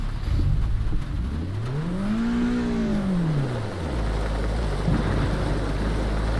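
Race car engine in Assetto Corsa Evo revving up through a rising, then falling whine as it accelerates and lifts off during a lap, loud and close with steady tyre and road rumble beneath.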